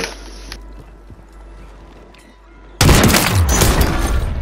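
Gunfire in the Call of Duty video game erupts abruptly partway through after a quiet stretch, a loud, sustained burst of shots filling the rest of the clip.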